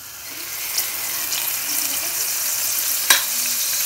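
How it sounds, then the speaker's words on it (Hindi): Ground garlic and ginger paste frying in oil, a soft continuous sizzle with a sharp clink near the end, fairly quiet and without talk. "इसी ऑयल के अंदर अब हमने डाल देना है गार्लिक और जिंजर पिसा हुआ है"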